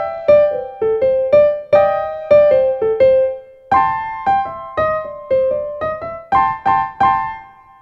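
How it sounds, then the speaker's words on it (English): Bluesy late-night piano-bar solo in the right hand, built on double stops: paired notes struck together in short rhythmic bursts, clear and close with decaying chords, no talking. "Another very nice bluesy element we can add to our late night piano music here is what the blues pianists call double stops."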